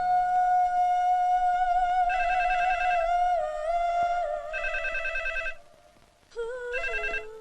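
A telephone rings in a Telugu film scene, several bursts of bright electronic ringing separated by short gaps, clear and fairly close with no talk over it.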